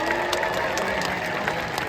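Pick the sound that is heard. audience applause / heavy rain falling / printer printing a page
audience applause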